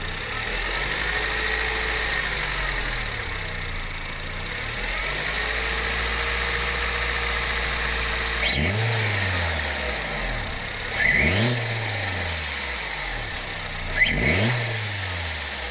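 Turbocharged Honda Civic R18 engine idles steadily while warming up, then takes several short, sharp revs in its second half, each rising and dropping back to idle.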